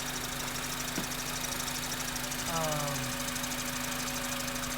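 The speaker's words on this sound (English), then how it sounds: "with it just idling with the engine warm" A car engine idles steadily with a low, continuous hum, and a faint higher whine rises briefly partway through.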